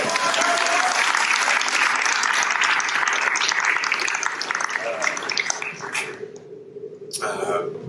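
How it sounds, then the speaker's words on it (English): A large crowd claps loudly and continuously, sustained applause that tapers slightly near the end with a few scattered claps. "Can we just give her a round of applause?"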